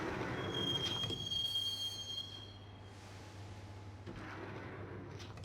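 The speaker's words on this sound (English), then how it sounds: "the train doors had already shut behind me, and I was in for the ride" A train ride in the Max Payne video game: a moderately loud rumbling carriage with a thin, high wheel squeal early on, then a steady drone that drops back before the rolling noise swells again.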